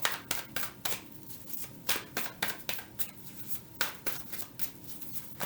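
A tarot deck being shuffled by hand, with rapid repeated riffling and flicking bursts in an uneven rhythm, close and fairly quiet, with no talking.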